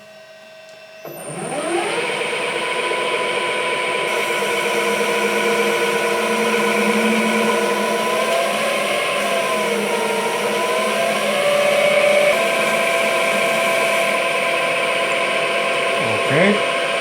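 A bench grinder wheel spins up and grinds steadily, taking about a millimeter off a workpiece, a loud continuous whine with slight pitch dips as pressure changes, ending with a brief clatter.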